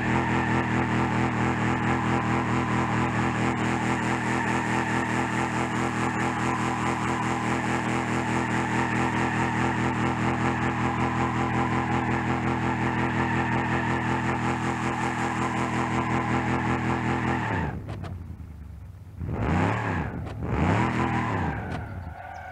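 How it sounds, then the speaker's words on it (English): A 513-horsepower muscle car in the BeamNG.drive driving game holds a loud, steady engine roar during a burnout, then cuts off and revs again in short bursts near the end. "Test drive. 513 horsepower. Let's see how well it does burnouts."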